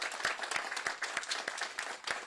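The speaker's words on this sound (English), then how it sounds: "Give them some love, a round of applause." Applause from an event audience in Atlanta, a small group clapping in a light, uneven rhythm with distinct individual claps, fairly quiet and brief.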